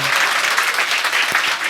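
A church congregation applauding at a Sunday service in Korea, steady dense clapping from many hands throughout, fairly loud and close, with no talk over it.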